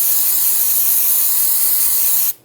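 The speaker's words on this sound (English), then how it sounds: "I'm just going to spray with some brake parts cleaner." Brake parts cleaner sprays from an aerosol can onto a 2011-2018 Ram 1500 rear axle, giving one loud, steady high hiss that stops abruptly just before the end.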